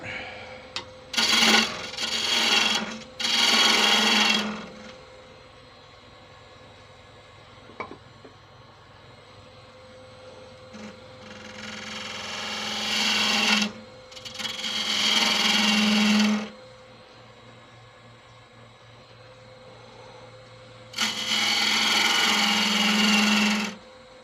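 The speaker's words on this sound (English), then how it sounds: "Detail gouge to get in here." A detail gouge cuts Tigerwood spinning on a lathe, giving loud rasping bursts of several seconds each over a constant motor hum, with quieter gaps between cuts.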